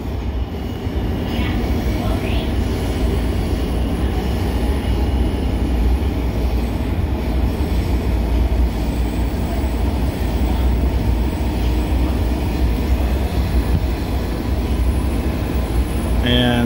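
A Washington Metro train rides toward Dulles Airport, passing cargo facilities, with a loud, continuous rumble of rolling wheels and car noise and faint squeals now and then.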